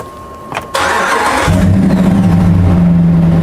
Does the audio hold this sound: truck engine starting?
yes